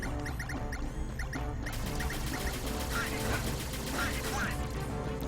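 Enemy gunfire in Kingdom Hearts 2 rattles off in rapid repeated shots, steady and dense under game music and effects throughout.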